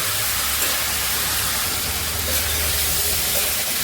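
Boiled beans tipped into hot oil with frying garlic and dried chillies, giving a loud, close, continuous sizzle and hiss that holds steady throughout with no voices.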